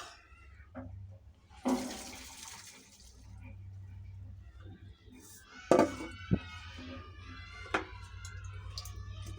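Water runs and drips off steamed bottle gourd peels set to drain in a home kitchen, a steady trickle under faint background hum with a few sharper splashes and knocks near the end.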